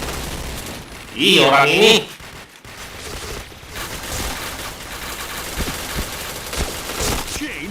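Gunfire in the video game Point Blank rattles in quick bursts and scattered shots, with a loud shouted moment early on, as players talk throughout.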